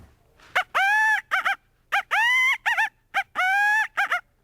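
A human voice imitates the territorial call of a Gambel's quail, giving four loud, clear whistled phrases, each a drawn-out note flanked by short quick chips, spaced about evenly with short pauses between.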